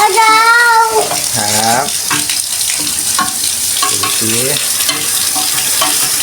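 Water spraying hard onto a dirty outdoor air-conditioner condenser coil makes a steady, loud hiss that runs throughout, with someone talking over it.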